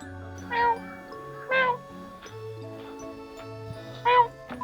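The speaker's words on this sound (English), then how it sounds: "Mr. Kitty, Right? do you have anything to say to the mic?" A cat meows three times at spaced intervals, close and clear, over soft background music.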